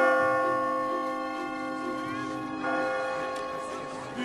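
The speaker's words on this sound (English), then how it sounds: "The bell of San Marco!" Church bell of San Marco ringing with sustained, steady tonal resonance that swells again partway through, heard alongside other background sound.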